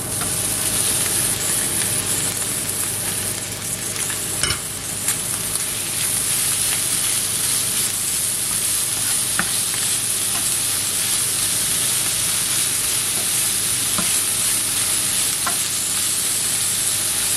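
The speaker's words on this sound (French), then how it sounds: "Voilà, ça commence à dorer. Je rajoute les champignons et le jambon." Mushrooms and ham fry in a pan while being stirred, giving a steady, close sizzling hiss with occasional scraping clicks from the utensil, cooked as filling for stuffed endives.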